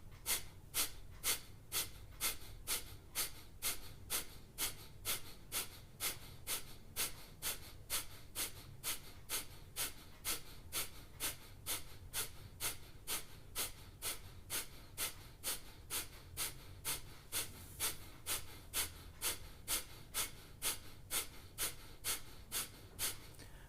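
Kapal Bhati yoga breathing: a long, steady series of sharp, forceful nasal exhalations at a quick even pace, each a short puff, close and moderately loud with no talking.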